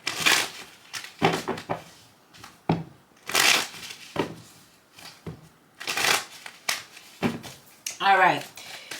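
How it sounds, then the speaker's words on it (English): A deck of tarot cards being shuffled by hand during a reading, bursts of riffling and flicking separated by short pauses, close and crisp, with a voice speaking intermittently between the shuffles. "Let me shuffle because half the deck just slid out of my hand."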